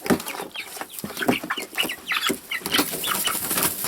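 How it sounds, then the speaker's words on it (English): A homestead flock of chickens clucks with a rooster among them, close by and fairly loud. Short, busy clucks and squawks overlap continuously with no talking. "That's the rooster."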